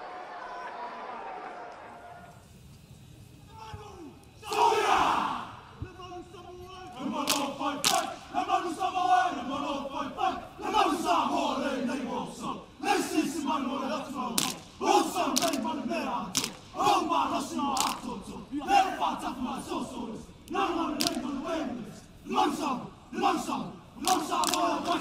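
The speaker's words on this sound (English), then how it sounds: "A very good crowd here in Palmer," A rugby crowd at a World Rugby U20s match between Australia and Samoa roars and cheers in repeated surges, with chatter and a commentator's voice over the top.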